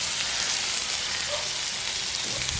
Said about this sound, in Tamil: வதக்குவோம். வெங்காயம் வதக்கட்டும்.